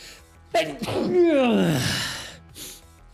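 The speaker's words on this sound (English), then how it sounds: "I gotta sneeze." A single loud sneeze with a short gasping build-up, close and sharp, trailing off into a breathy exhale.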